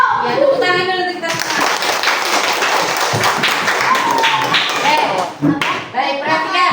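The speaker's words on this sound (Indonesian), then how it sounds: "tepuk tangan dulu kita" Classroom of children clapping hands together, a burst of fast, loud, dense clapping that begins after a brief spoken prompt and runs for several seconds before tapering into scattered claps and voices.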